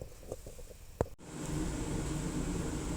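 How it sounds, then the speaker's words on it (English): A household furnace runs in the background, a steady broadband whoosh of blowing air that starts abruptly after a few faint clunks and a click, then continues evenly at moderate volume with no talk. "Got the furnace running if you're hearing that"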